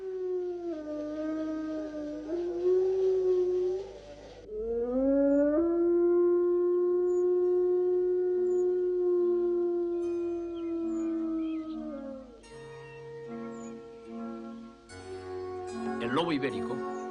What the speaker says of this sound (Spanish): para que en las noches españolas no dejen de escucharse los hermosos aullidos del lobo